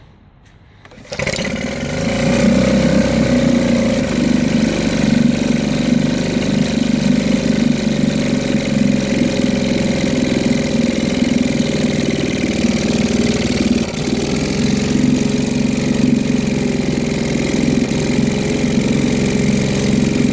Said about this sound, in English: hopefully this little motor will start for me